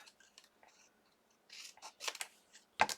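Scissors cut through fabric in a few short, close snips and crisp rustles, faint at first and growing louder toward the end, with no talking.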